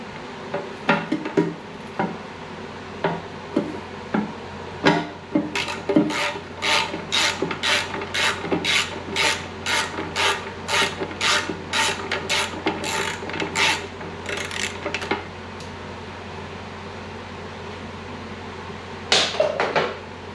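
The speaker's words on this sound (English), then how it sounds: "there's actually a nut on the bottom side here that actually is hooked to one of these rubber mounts" A nut is worked loose on the rubber oil tank mount of a 1979 Harley-Davidson FLH Shovelhead, with scattered metallic scrapes, then a long run of evenly spaced ratcheting clicks, and a few more clicks near the end.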